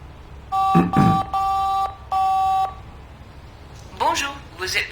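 Telephone keypad tones on a secure line: three or four steady dialing beeps spaced apart, each about half a second long, followed by brief talk.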